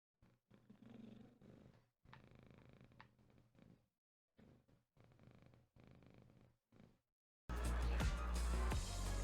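A cat purrs steadily in close, soft rhythmic bursts with brief pauses while its ear is rubbed in a video game scene, before a louder burst of game sound at the end.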